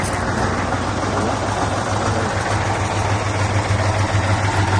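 A truck engine idles steadily, a loud continuous low hum with a strong steady drone throughout, no speech over it.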